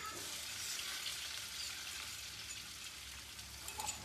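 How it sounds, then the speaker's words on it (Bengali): Crushed garlic and green chilli paste sputters in hot oil, a soft, even crackling sizzle that stays fairly quiet throughout, with no voices. "দেখো এটাকে ফ্রাই করছি।"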